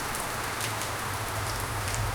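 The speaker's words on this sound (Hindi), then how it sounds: "और जोर जोर से बारिश की बूंदें गिरने लगी।" Steady, dense rain pours down continuously, a constant hissing patter with scattered louder drops.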